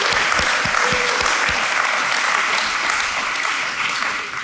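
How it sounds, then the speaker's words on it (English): A large, packed crowd at a live startup pitch event breaks into sustained, dense applause that stays loud and steady throughout before easing slightly at the very end. "Give each other a round of applause."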